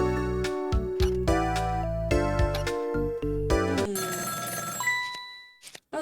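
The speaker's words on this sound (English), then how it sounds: "Oh, the phone's ringing." Video game telephone ringing in a telephone room: a loud bell rings in repeated bursts separated by short gaps, then fades out into a faint electronic tone.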